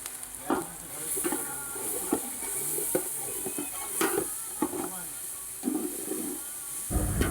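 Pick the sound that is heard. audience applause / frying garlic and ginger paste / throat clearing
frying garlic and ginger paste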